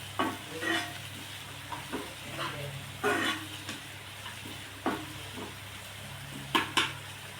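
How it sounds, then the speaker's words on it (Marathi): Spring onion greens being sautéed in a pan for Khandeshi bharit, with a soft steady sizzle under intermittent scraping stir strokes from a spoon, close by. "दोन मिनटं ही पात आपण परतून घेणार आहोत"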